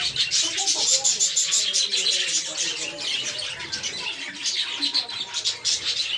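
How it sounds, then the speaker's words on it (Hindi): Australian budgerigars chirp and chatter continuously in a dense, busy flock sound, close and fairly loud, with occasional squawks mixed in. "तोता तोता।"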